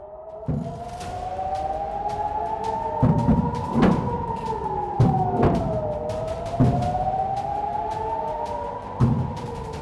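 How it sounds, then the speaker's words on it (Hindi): A drone-attack warning siren in Tel Aviv wails in long rising and falling sweeps, punctuated by a few sharp bangs at irregular intervals. "तेल अवीव और शहर के उत्तरी इलाकों में भी ड्रोन हमले की चेतावनी वाले सायरन सुनाई दिए।"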